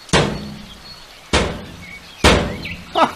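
A cooler is rammed against a steel-reinforced door three times, each impact a heavy booming thud with a short decay. Faint chirps sound in the quiet gaps between the blows.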